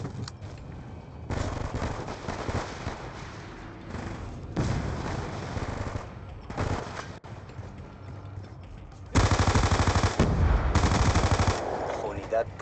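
Rapid gunfire bursts in the video game Call of Duty Black Ops II, loud rattling automatic fire in several separate volleys over steady game background noise.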